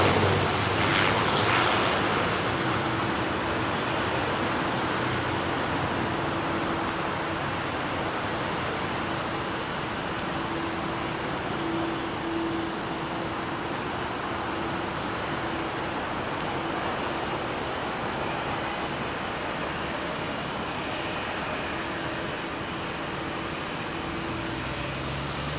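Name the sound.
airliner departing Heathrow runway 27R, Amsterdam bound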